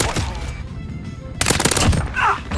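ISO 45 submachine gun from Call of Duty Modern Warfare 2 fires in a rapid automatic burst, a dense rattling stream of close, loud shots, with a brief short burst earlier and game effects following.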